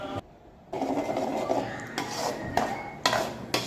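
A utensil stirs drumstick chutney paste in a frying pan, giving scraping, clinking strokes against the metal in uneven bursts with a short quiet gap near the start.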